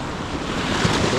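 Ocean waves wash onto a small beach at Arraial do Cabo at high tide, a loud, continuous rush of surf mixed with wind buffeting the microphone.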